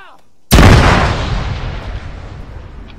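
Suicide vest detonating in an ACE-modded military shooter game: a single sudden loud blast after brief quiet, followed by a long rumbling decay.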